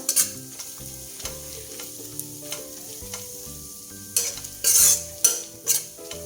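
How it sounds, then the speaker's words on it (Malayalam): Chana masala with a half teaspoon of cumin powder is stirred in a pan, with loud sizzling and rhythmic spoon scrapes and clinks against the metal, near and without talk. "ഇത് നന്നായിട്ട് ഇളക്കിയെടുക്കുക."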